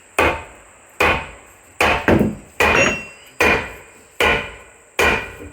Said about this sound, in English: The froe whacker, this hammer is made out of hickory wood, so it's very strong